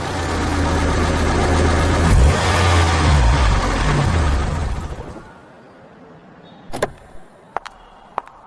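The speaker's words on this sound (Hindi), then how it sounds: "फिर एक दिन आयशा कुछ शॉपिंग करने के बाद बेसमेंट पार्किंग में अपनी गाड़ी पार्क करती है।" A car rolling into basement parking, a loud enclosed engine rumble for several seconds that cuts off, followed by a few sharp clicks and thumps in the quiet.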